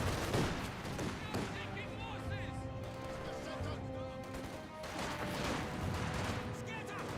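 Gunfire in the World War II strategy game Company of Heroes 2, dense battle noise with repeated shots and crashes over a constant loud rumble and a steady tonal hum.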